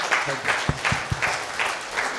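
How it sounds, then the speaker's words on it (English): Round of applause from the audience at a technical paper session of a conference on induction melting furnace technology, steady clapping for about two seconds with a few sharper bursts at moderate distance. "please give him a round of applause"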